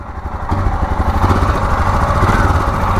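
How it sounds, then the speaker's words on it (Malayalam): A BS6 Himalayan 411 motorcycle engine idles close by, a steady low rumble with a slightly rough, uneven chug throughout and no talking. "എഞ്ചിൻ്റെ സൗണ്ട് നിങ്ങൾ നോക്കിക്കോ കുറച്ചൊന്ന് നോയ്സിയാണ്"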